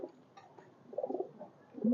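Oman Teddy pigeons, a pair of high-flyer birds, give soft low coos in a short close burst, ending in a slightly louder rolling coo.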